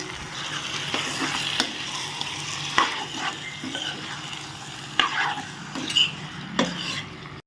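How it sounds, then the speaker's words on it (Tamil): Chicken with turmeric and salt is stirred in a frying pan, a close steady sizzle broken by repeated scrapes and clinks of the spoon against the metal pan. "அதையும் நல்லா மிக்ஸ் பண்ணி விட்ருவோம்"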